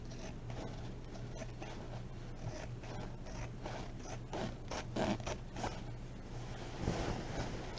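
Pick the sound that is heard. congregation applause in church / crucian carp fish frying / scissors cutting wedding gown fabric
scissors cutting wedding gown fabric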